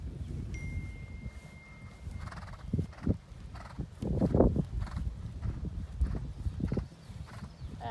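A horse canters on the right lead in a home schooling session, its hoofbeats thudding in a rolling three-beat rhythm, nearby and moderately loud, with a whinny and some rustling.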